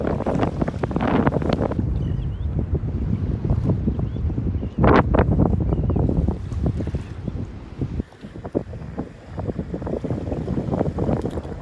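Southwest wind gusting outdoors beside the water where people fish, a steady broadband rush that buffets the microphone throughout with stronger gusts, loud and close, with no speech.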